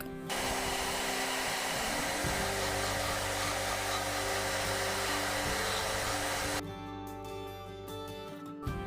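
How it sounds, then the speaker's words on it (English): A hair dryer blows steadily at close range, drying a decoupage pen stand, a loud continuous roar that cuts off abruptly near the end, leaving a few faint clicks. "Now dry it with the help of a dryer"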